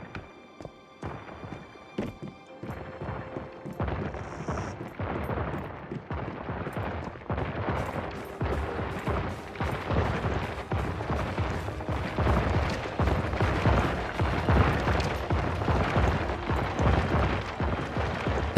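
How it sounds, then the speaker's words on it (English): Wishland fireworks go off in the video game Once Human as a rapid series of sharp pops and booms that build into a dense, continuous crackling barrage. "Wishland Fireworks."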